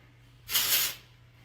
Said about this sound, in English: So if you just spray this wherever you want the texture.